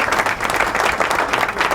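Applause from a virtual audience at a live show for an organ donation charity run, a steady dense clapping that fills the whole moment without pause.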